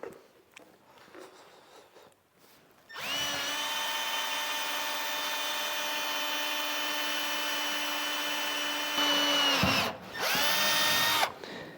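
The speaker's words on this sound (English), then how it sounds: "If it's that slow drilling, I can just imagine how slow it would be trying to self-tap those screws" A power drill whines steadily for several seconds at a constant pitch while boring into wood for a large barn door, then stops and starts again briefly; the drilling sounds slow and labored.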